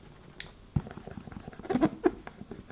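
Soft scraping and tapping of fingers on the smooth, glossy cardboard of a JBL headphones box, with a few sharper brushes and taps, close and fairly quiet.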